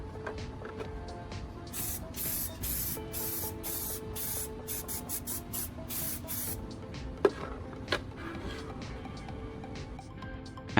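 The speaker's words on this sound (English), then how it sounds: "I grab my spray paint and apply an even coat of black paint over the repaired section on the outside" Black spray paint hisses onto a repaired plastic motorcycle fairing in a string of short and longer bursts, close and fairly quiet, then a few light handling clicks.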